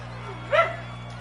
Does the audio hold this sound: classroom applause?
no